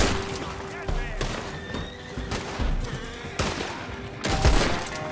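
A Turkoman horse in the video game Red Dead Online neighs and whinnies while bursts of gunfire crack around it, several sharp volleys punctuating a busy, loud scene.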